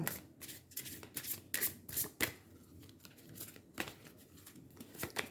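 Tarot cards being shuffled and drawn by hand, a run of quick close riffles and snaps in uneven bursts with short pauses between them.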